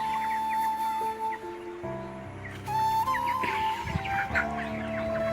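Chickens cluck repeatedly at close range, several birds overlapping in a busy, continuous chorus with no talking.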